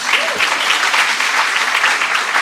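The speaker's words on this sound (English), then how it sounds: "Let's give her a round of applause." A hall of fame induction audience claps loudly and continuously for a couple of seconds, a dense wash of applause heard up close.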